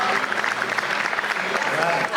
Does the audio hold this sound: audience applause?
yes